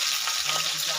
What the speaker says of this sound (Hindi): उसके बाद गोभी देंगे, इसमें थोड़ा सा प्याज पकने देते हैं।